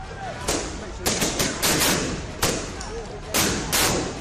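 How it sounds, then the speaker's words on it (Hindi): Tear gas shells fired at protesters near a street barricade during unrest in Sri Lanka, heard as several sharp loud bangs and thumps at irregular intervals over crowd noise. "Suddenly they started firing tear shells."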